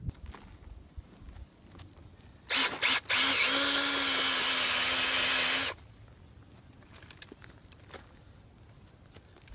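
Battery-operated drill fitted with a 3-inch auger churning garden soil, a loud steady whirring burst lasting about three seconds with a couple of brief starts just before, close by, then quiet outdoor ambience returns.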